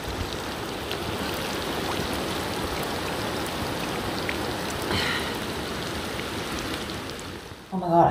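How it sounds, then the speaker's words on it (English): Heavy rain pours down in a steady, dense hiss, loud and constant, drumming on surfaces nearby, with a brief clatter near the end. "Oh, it's super rainy."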